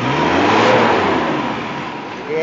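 Isuzu diesel truck with its engine revved hard in a sustained, loud blip that holds steady before easing off, close by, with faint voices around it.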